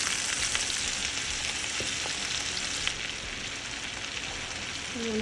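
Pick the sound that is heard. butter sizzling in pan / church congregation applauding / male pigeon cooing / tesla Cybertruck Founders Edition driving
butter sizzling in pan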